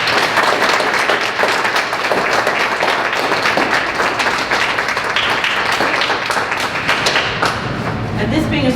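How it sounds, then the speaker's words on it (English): At a school National Junior Honor Society induction ceremony, a crowd of students and families gives a loud, continuous round of applause with thumping and tapping mixed in, with voices audible underneath. "Can I have a round of applause?"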